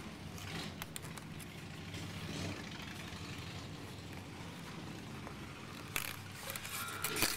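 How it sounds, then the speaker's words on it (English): Motorcycle traffic, including Harleys, rumbles through downtown Gettysburg as a steady, fairly distant drone of engines, with a few louder passing swells and sharp clicks toward the end. "there's a lot of Harley traffic, a lot of downtown stuff."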